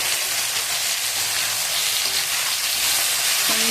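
Onions frying in a pan for egg tomato curry give a loud, steady hiss of sizzling oil, close up and unbroken, with a faint low hum underneath and a brief tonal sound near the end.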